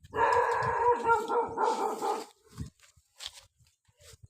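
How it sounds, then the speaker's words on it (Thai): A dog barks in a quick, loud volley of overlapping barks and yips close by, then the noise drops off to a few scattered faint sounds. "มันเห่าทำไมหมาน่ะ"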